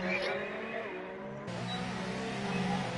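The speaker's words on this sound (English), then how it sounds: "I've got now the other end of the glitch scale, where the car is constantly overrevving" In a racing game, a glitched race car engine holds a constant high-pitched overrevving whine, steady and sustained, with a slight shift in tone partway through.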